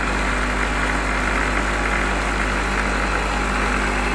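A running induction motor in a lab experiment, a steady loud hum with constant mechanical vibration, unchanging and alone without talk.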